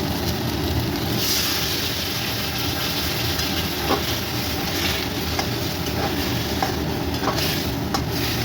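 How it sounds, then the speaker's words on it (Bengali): Golda prawns sauté with ground coriander, poppy seed paste and coconut paste in a pan, giving a steady close sizzle with a few soft scraping stirs. "মশলার সঙ্গে চিংড়িটা ভালো করে কষিয়ে নিচ্ছি।"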